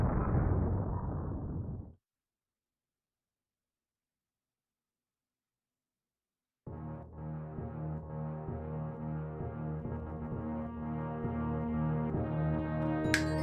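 A video-game explosion from Metroid, a loud burst of roaring noise lasting about two seconds that cuts to silence, followed by a sustained droning tone with steady musical layers.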